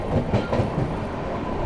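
The Telangana Express (12723) runs toward New Delhi, heard from inside as a loud, close, low rumble of rolling wheels with a faint clickety-clack rhythm over rail joints, no voices.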